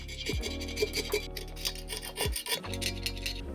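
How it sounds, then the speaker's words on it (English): Metal scraper raking debris from a crevice of an Olympia Cremina espresso machine during a rebuild, giving a steady close rasping scrape over a low hum, with a brief pause near the end. "there's a little bit of stuff still stuck in here, so we're gonna quickly scrape this out"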